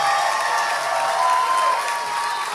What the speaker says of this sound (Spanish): Quiero que le den un aplauso a mis colegas cantantes,